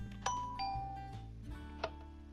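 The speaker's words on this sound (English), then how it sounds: "that has given me what I feel sounds most like a doorbell" Minecraft note block doorbell chime in a game: a few bright tonal ding-dong notes sounding over a steady low musical drone, two sharp accents about a second and a half apart, fairly quiet.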